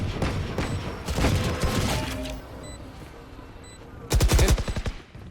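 Sheriff pistol gunfire in a Valorant match, scattered sharp shots amid other game gunfire, ending in a loud rapid burst near the end.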